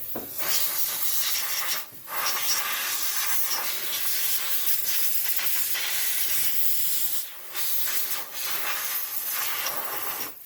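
Compressed air blasting grime off Honda Civic engine parts near the VTEC solenoid and oil pressure sensor, loud sustained hissing bursts with brief pauses between them, close and with no talking.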